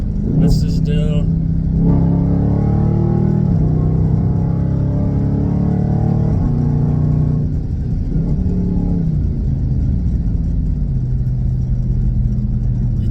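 A muscle car engine held at high RPM in track mode produces a steady, droning hum that sits beneath a person talking for most of the stretch.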